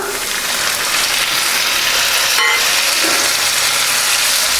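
Onion and two medium tomatoes sauté in a pan for a bread chilli snack, making a loud, continuous hiss and sizzle close by with little change throughout.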